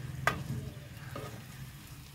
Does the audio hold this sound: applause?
no